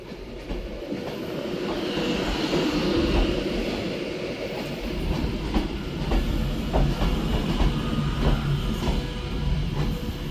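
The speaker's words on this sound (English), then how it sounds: "here we have this Avanti Westcoast service coming in from London Euston" An Avanti West Coast Pendolino class 390 from London Euston pulls into Manchester Piccadilly, a steady rumble of wheels and clickety-clack with faint squeals, loud and continuous throughout.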